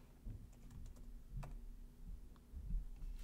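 Quiet typing on a computer keyboard, a scattering of light key clicks at an uneven pace, close and soft, with no speech.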